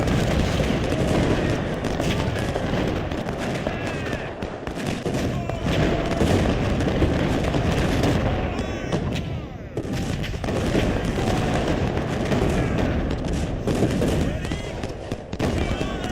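Dense, constant battle noise from the video game Ultimate General: Civil War, with rattling gunfire and heavy artillery booms overlapping, loud and unbroken throughout.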